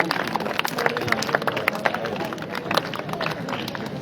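Audience clapping at a school prize ceremony for a speech competition, a dense crowd of hands heard at some distance, with sharper individual claps standing out irregularly over a continuous murmur.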